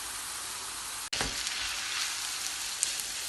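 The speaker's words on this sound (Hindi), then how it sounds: "मैंने पास्ता इसके अंदर ऐड कर दिया। अब इसको अच्छी तरह करते हैं मिक्स।" Pasta being stirred into black zucchini frying in oil, giving a steady, close hiss of sizzling with a sharp clatter as it is mixed in, and no talking.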